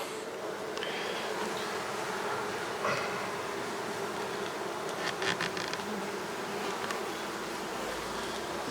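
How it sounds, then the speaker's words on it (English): Honey bees hum steadily around an open hive being inspected, a close, continuous buzzing drone with a few louder passes as individual bees fly near, with no voices. "Now I'll move the cluster of bees back in."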